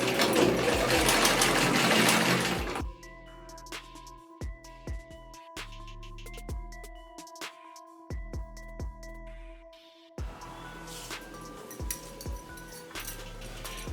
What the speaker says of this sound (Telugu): లేస్ కొంచెం వెడల్పుగా ఉంది కాబట్టి డబల్ కుట్టు వేసుకోవాలి.